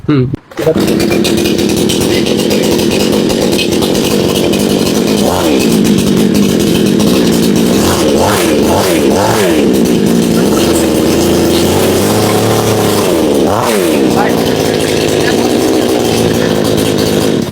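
A large 36-inch SRB Pro Max petrol chainsaw with a digital display runs loudly and close, holding a steady rough engine drone with a few revving swells, while voices talk over it.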